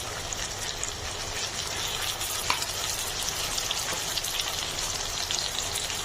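Garlic paste hits browned onions in a hot pan for a Bengali khichuri meal, giving a steady, even sizzle that hisses close and constant without a break.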